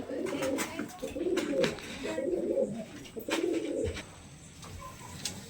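Pigeons coo in repeated low, throaty bursts, fairly close, with faint background noise between calls.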